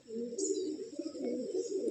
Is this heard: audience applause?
no